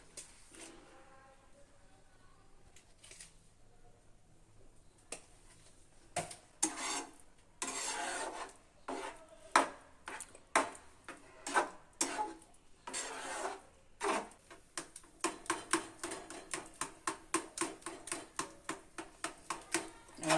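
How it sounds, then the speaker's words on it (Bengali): Carrot langcha mixture with sugar and milk powder stirred in a pan, giving irregular scraping and rubbing strokes that start sparse and grow quicker and denser, faint and close, with occasional soft talk. "কিন্তু অনবরত নাড়তে থাকবো না হলে তলায় আটকে যাবে"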